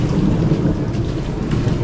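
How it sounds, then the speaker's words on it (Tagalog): Heavy rumbling thunder rolls continuously under steady pouring rain during an enhanced habagat monsoon storm in Cabangan, loud and close with no break. "grabe yung kulog, oh. Galit na galit."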